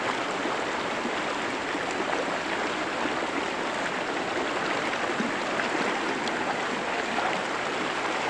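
A river near a house flows in a constant, dense rush of water at close range, steady throughout with no talk.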